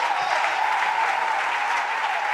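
A church congregation applauds, a steady, dense wash of clapping from many hands that holds evenly throughout the short span, with no clear talk over it.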